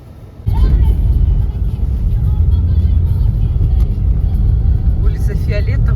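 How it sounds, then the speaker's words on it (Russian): A car drives along the main road out of Yarensk toward Kotlas in the Arkhangelsk region, a steady close interior rumble of engine and tyres that kicks in abruptly after a moment, with a voice heard at times. "Это мы едем по основной трассе"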